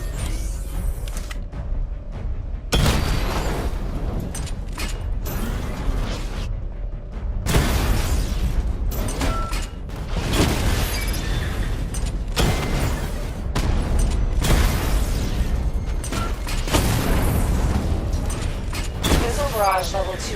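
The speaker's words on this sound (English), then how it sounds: "Charge up missile barrage to level 2 and destroy 4 active targets to complete diagnostic test." Missile barrage explosions from the Batman Arkham Knight video game, a dense run of booms and bursts with mechanical clanks, steady and loud throughout, mixed with game voice dialogue.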